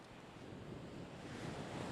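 Ocean surf rushes and swells beneath steady wind buffeting the microphone, a broad continuous roar that grows slightly louder toward the end.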